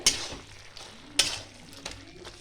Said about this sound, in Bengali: এইভাবে একটু ঘেঁটে দিতে হবে